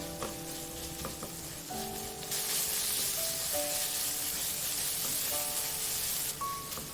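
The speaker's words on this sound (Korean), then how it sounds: "다진 마늘, 대파를 넣고 중불로 1분 볶고" Minced garlic and green onion stir-frying over medium heat after pork, a steady close sizzle that swells louder partway through, with faint utensil scrapes and no voices.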